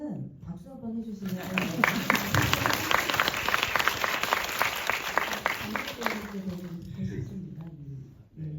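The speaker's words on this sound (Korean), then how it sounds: "이제 막 이렇게 약간 뭐가 뜰 때는 박수 한번 해주시면" An audience claps together at a film screening talk, with a burst of applause lasting several seconds and speech before and after it.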